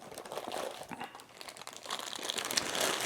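Plastic wrapping around a camera strap crinkles and rustles continuously up close, with sharper crackles near the end and no talking.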